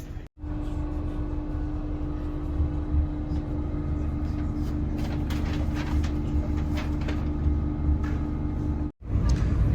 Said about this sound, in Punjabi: ਟ੍ਰੇਨ ਦੀ ਸਪੀਡ ਜਿਹੜੀ ਹੈਗੀ ਹੈ 140 ਲਗਭਗ 140 ਕਿਲੋਮੀਟਰ ਪਰ ਆਵਰ